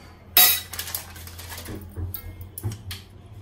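A metal spoon clanks sharply against a pot, then scrapes and knocks several more times while chicken pickle with Kashmiri chili powder and oil is stirred, close and clear.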